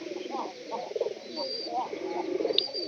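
Pigeons coo repeatedly in a loft with straw nesting material, soft rhythmic coos rising and falling close by, with a few faint chirps mixed in.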